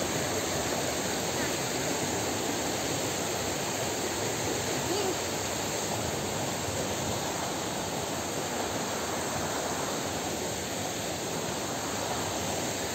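Thottikallu waterfall, full after days of rain, pours in a continuous, even rushing roar heard from a moderate distance, steady and unbroken throughout with no talking.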